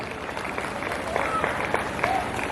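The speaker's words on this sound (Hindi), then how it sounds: "एक बार जोरदार तालियां आप सब लोग अपने सम्मान से बजाएं।" Audience applause at a disabled poets' gathering (kavi sammelan) in Lucknow: a dense, steady wash of clapping that holds evenly throughout, with some voices mixed in.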